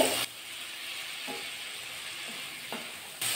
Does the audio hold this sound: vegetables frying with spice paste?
yes